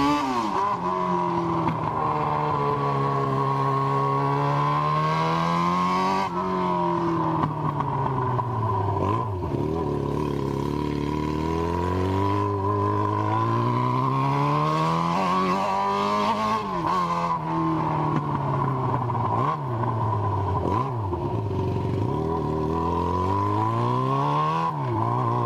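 A Yamaha XJ6 motorcycle with its exhaust tip removed revs repeatedly, the engine note sweeping up and down in loud, raspy waves with crackling pops between revs, close by and alone.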